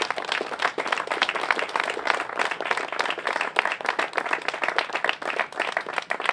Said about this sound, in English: So, if we could get a round of applause for them.